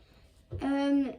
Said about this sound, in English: Meowing. My cat.